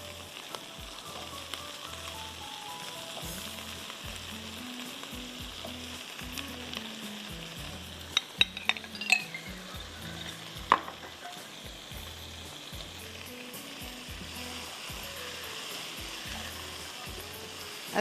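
Potatoes and other vegetables sizzle steadily in a hot pan for a bakla recipe, with occasional stirring clinks over a constant frying hiss and no voices.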